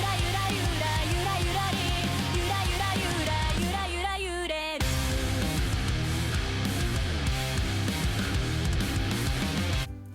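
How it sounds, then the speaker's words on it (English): Kawaii metal, heavy metal fused with Japanese idol J-pop, plays loud and dense throughout, with heavy guitars and drums under bright melodic vocals and a brief break near the middle before the full band crashes back in. "Kawaii metal mixes the genres of heavy metal and Japanese idol music, sometimes called J-pop. the results sound like this."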